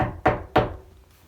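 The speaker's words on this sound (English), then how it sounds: "Knock, knock, knock." Knocking on a wooden door during a children's storytime, two loud, close knocks about a third of a second apart with no talk over them.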